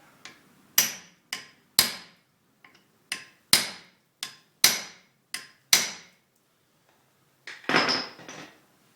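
A hammer strikes a brake part during front brake and rotor replacement on a Cadillac Catera: about ten sharp metallic blows in an uneven rhythm, each ringing briefly, then a pause and a final scraping knock, close and loud with no talk.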